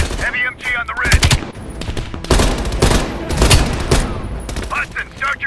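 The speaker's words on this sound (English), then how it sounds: "Heavy MG on the ridge." Heavy machine gun fire rattles in long, loud bursts during a battle in the video game Call of Duty Black Ops Cold War, with voices talking over the gunfire at times.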